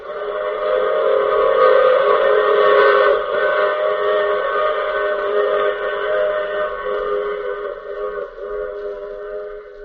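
Steam-era train whistle sound effect in an old radio mystery drama: a sustained, loud layered whistle tone held steadily for about ten seconds, fading slightly toward the end, with no voices.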